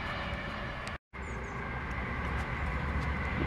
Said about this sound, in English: It's a new LNER train just whizzed by.